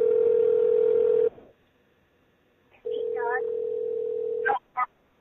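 Phone line tones while a caller is merged into a conference call: a steady dial tone, a pause, rapid keypad beeps, then the tone again followed by two short beeps.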